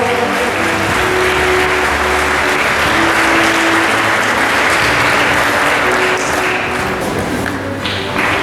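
An audience at a school toppers' felicitation ceremony gives steady, dense applause lasting several seconds, loud and close, with no talking over it.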